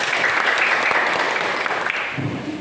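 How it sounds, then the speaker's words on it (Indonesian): Students in a classroom clap together in a lively burst of applause that fades toward the end, where a voice begins to speak. "Oke, tepuk tangan."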